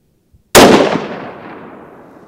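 A single loud shot from a SOCOM MK22 sniper rifle fired at targets on a shooting range, a sharp close blast followed by a long fading echo.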